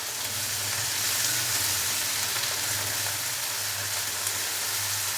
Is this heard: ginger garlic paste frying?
yes